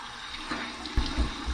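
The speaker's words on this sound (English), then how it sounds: "here's my cold water rinse" Cold tap water runs steadily into a sink for a rinse after a shave with a Henson razor, a continuous close splashing flow with a few louder bursts of water.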